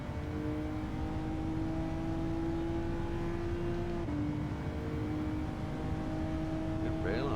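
A Honda NSX race car in GT7 on the Daytona Road Course holds a steady, high engine drone that climbs in pitch, with a brief dip near the middle like a gear change, and no voice over it.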